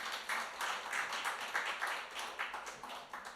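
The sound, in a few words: congregation clapping for a singer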